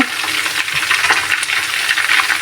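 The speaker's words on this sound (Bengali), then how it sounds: "আমি এটাকে ভালোভাবে ঘুরিয়ে ঘুরিয়ে ভেজে নিয়েছি।" Chicken pieces sizzle loudly in hot oil for biryani and are turned over and over in the pan, making a steady crackling hiss with light utensil clicks and no talking.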